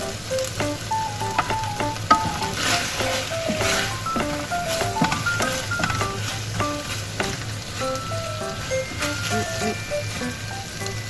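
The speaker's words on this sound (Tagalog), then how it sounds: "Habang naghihintay tayo na mag-boil yung squid." Squid with a little sugar sizzles and bubbles steadily in a pan, close and continuous, with occasional clinks of utensils and a low hum underneath.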